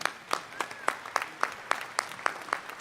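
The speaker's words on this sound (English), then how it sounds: "Give Steve a big round of applause as they come up," Scattered, rhythmic claps, about ten distinct strikes spaced roughly evenly, from a small crowd at a livestock sale ring during a state fair auction in Ohio, moderately loud with no talk over them.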